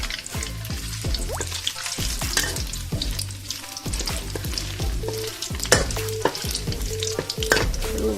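Fish balls deep-frying in hot oil, with a busy, continuous close sizzle and crackle plus repeated clinks and scrapes of a utensil moving them around, loud and steady for several seconds without speech.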